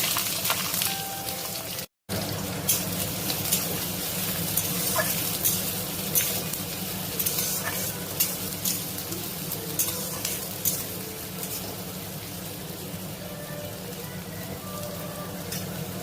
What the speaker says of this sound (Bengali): পেঁয়াজটা দেখো ভালো করে ভাজা হয়ে গেছে